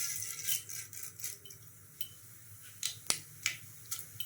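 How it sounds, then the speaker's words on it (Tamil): Mustard seeds splutter in hot peanut oil, sparse sharp pops and crackles scattered irregularly over a low background hum, fairly faint and close. "கடுகு பொரியட்டும்."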